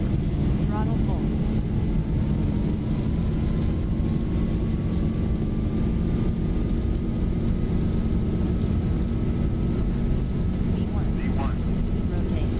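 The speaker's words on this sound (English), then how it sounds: "Takeoff thrust set." Boeing 737 jet engines at takeoff thrust in the Zibo mod flight simulator, flying from San Francisco to Palm Springs. A steady, loud, broadband roar carries a slowly rising whine. Faint voices sit underneath.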